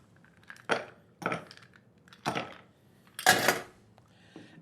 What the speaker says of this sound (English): Let's top that off with a little bit more ice.